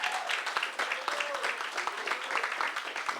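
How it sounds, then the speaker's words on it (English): Applause from a congress plenary audience rises into a dense, continuous patter of many hands clapping, moderately loud, with cheering and voices mingled through it. "Can you give one more round of applause to the chairman of Maricela for this present?"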